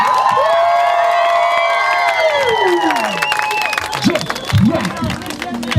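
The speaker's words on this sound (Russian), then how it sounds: "Финал не может пройти без оваций, аплодисментов и шума." Crowd at a break-dance championship final claps, cheers and shouts, a loud continuous roar of applause and voices with a sustained whistle or siren-like tone sweeping downward through the first half.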